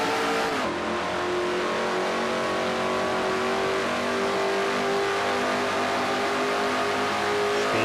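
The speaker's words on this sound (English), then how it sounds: "Now accelerates up to this long straightaway." A stock car in a racing video game at Riverside accelerates down a long straightaway, its engine a loud, continuous, high-revving roar that holds steady throughout.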